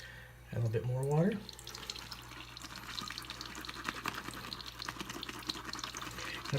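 A short hum-like voice sound opens, then water runs and splashes gently into a bowl of CBL shaving soap lather with wet churning noises, close and continuous.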